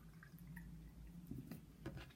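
Mead pours into a jam jar glass with a few quiet drips and splashes of liquid, faint and close, with no talking.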